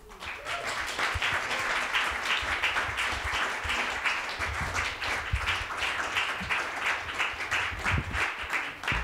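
Audience applause welcoming two performers at an evening poetry reading, dense and sustained clapping from a crowd that runs throughout at an even, full level.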